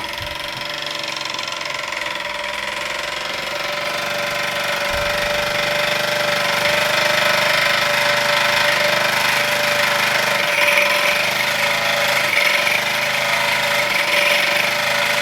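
A small Luton Bowman PW201 model steam engine, once seized at the piston, runs on a gas canister with a steady mechanical whir and faint hiss, close and continuous, no voices.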